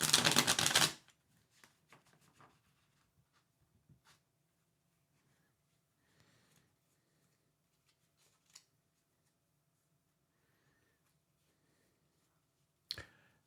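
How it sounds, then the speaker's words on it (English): Tarot cards riffle-shuffled close by in one loud burst at the start, followed by faint scattered clicks and card taps over a low steady hum, then a single sharp snap near the end. "I'm shuffling now for you"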